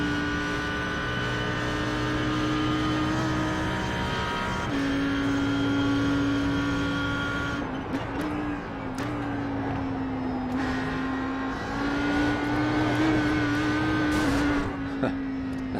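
Audi R8 GT3 race car in a racing video game at Bathurst, its engine droning loud and steady, then dropping and climbing again through gear changes, with brief tyre squeal and no voices.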